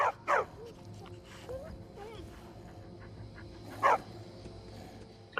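In the video game Skyrim, a pet dog lets out two short, sharp barks, one at the start and another near the end, over a quiet game soundscape.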